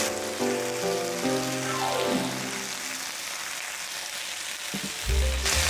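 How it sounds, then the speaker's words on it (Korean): Chicken pieces fry in oil for a soy-braised chicken dish, a steady close sizzle with spattering crackle throughout. Tonal music plays over the start and again at the end. "이렇게 하니까 이제 기름이 자꾸 튀거든요"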